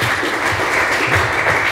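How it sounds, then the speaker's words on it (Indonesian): A congregation at a church event applauds a speaker, with thick, steady clapping from many hands that stays loud and unbroken throughout, no voices on top. "saya ingin kita kasih tepuk tangan untuk Pak Paulus yang luar biasa."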